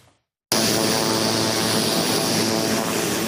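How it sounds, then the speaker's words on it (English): A CT-102B Astra II training aircraft at 15 Wing Moose Jaw roars steadily close by, a loud continuous engine drone that cuts in abruptly after a brief silence. "A new fleet of training planes now in use at 15 Wing Moose Jaw."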